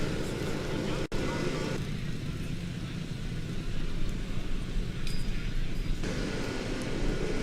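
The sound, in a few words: 2003 Stralsund Formula Student race car accelerating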